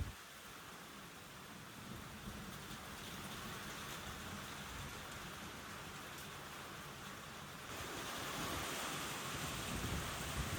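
Steady rain falls in a broad, even hiss with dense pattering, growing a little heavier near the end; small hailstones were also coming down with it. No voices are heard.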